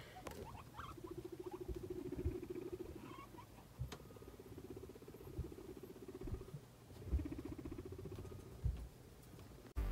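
Guinea pigs in a C&C cage scurry with soft pattering steps and give low rhythmic rumbling squeaks in repeated bursts, faint and close, with no talking.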